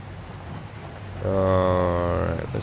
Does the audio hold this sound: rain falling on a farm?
yes